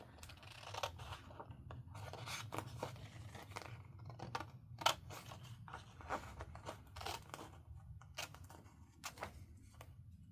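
Scissors cutting card stock for a handmade fractured card, a quiet, close series of crisp snips and crunchy slices at irregular intervals, with soft paper handling between cuts and no talking.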